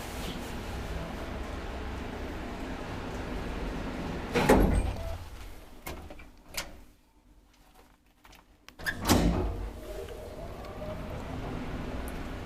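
Old Kone traction elevator machinery in a four-floor Helsinki apartment building, about 40 years old, gives a steady mechanical rumble broken by sharp door-like clunks, a brief quiet lull, then another clunk before the hum resumes.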